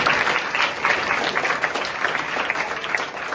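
Loud, sustained applause from an audience at a school students' development program, dense steady clapping throughout with no talking over it.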